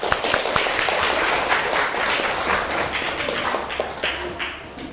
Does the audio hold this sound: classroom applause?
yes